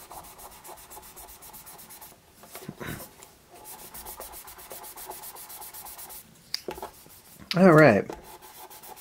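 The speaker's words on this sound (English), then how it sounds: "Dull because I've sanded the finish." Wood finish being sanded by hand during a finish repair, a soft steady rubbing scratch running under the quiet room tone, pausing briefly before a louder burst near the end alongside a brief spoken remark.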